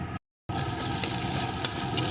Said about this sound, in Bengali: এইভাবে খুন্তি দিয়ে সমানে নাড়ব আর ভেজে ভুজিয়া তৈরি করে নেব